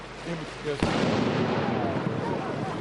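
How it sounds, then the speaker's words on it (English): A single sharp cannon blast from the Albemarle replica ship on the Roanoke River, followed by a broad, rolling rumble that carries on for a couple of seconds. "the Albemarle replica on the waters of the Roanoke as it prepared to fire a cannon salute"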